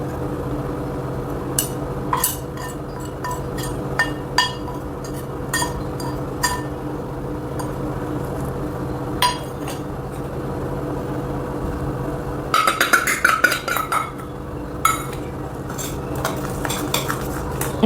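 A metal spoon stirs masala spices into curd in a bowl, with repeated clinks and scrapes against the bowl coming in short bursts over a steady background hum, then a quicker flurry of clatter near the end.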